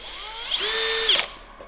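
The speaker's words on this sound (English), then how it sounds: "I just need to know how to drill these." A power drill bores into snowmobile tracks, one short high-pitched whine that rises, holds for about half a second and cuts off, loud and close.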